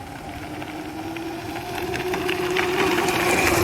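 A small gas-powered two-wheeler ridden by a little boy, with a steady buzzing engine drone that holds throughout and swells slightly louder toward the end, as if drawing nearer.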